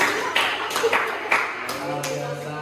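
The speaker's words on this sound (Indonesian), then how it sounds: "Oke, beri tepuk tangan." A classroom group claps together in a short burst, a few sharp, uneven hand claps near and loud, with talking mixed in.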